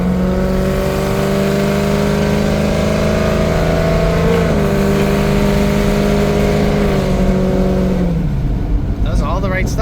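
Car engine revving loud and close, holding a steady high pitch, easing off to decelerate, then climbing again before dropping toward idle near the end.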